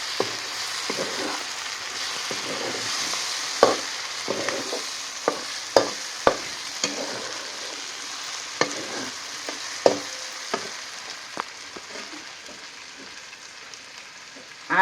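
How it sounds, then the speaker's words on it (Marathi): Masala paste for a spicy field-bean curry fries in oil with a steady close sizzle, broken by sharp clicks and scrapes of a spoon stirring in the pan. "आपल्या वाटण चांगलं परतले गेले आता त्याला अगदी वाटणाला तेल सुटून द्यायचं"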